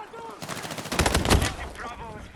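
Weapon fire in Battlefield 6 at close range: dense bursts of rapid automatic shots, loudest and most crowded in the middle, loud and near with no talk over them.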